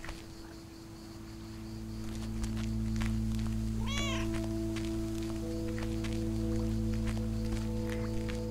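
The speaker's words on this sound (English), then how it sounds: "Meow." A cat in the video game Lake gives a single clear rising meow over a steady low ambient hum and tonal background, close and alone with no talk.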